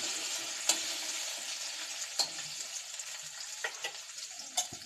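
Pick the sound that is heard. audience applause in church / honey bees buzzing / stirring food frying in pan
stirring food frying in pan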